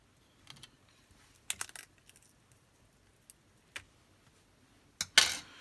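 Prying the battery connector cover off a General Mobile GM5 Plus phone, faint sparse clicks and small plastic snaps, with a sharper crackling snap near the end.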